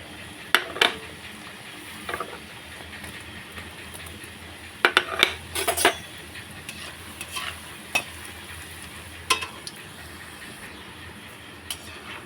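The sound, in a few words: cashew biscuits frying in hot oil in a wok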